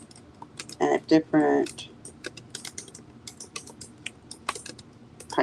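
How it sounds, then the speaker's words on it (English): Fingers type on a computer keyboard at close range, making irregular bursts of clicky keystrokes with short pauses. A voice speaks briefly over the typing. "sorry for all the typing"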